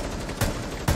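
Two quick gunfire bursts ring out in the Rainbow Six Siege shooter, spaced about half a second apart over a steady background bed.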